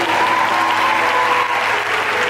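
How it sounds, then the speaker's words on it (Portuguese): An audience at a Brazilian priest's talk applauds loudly and continuously for the town of Ibaté, a dense, unbroken wash of clapping. "Aplaude Ibaté."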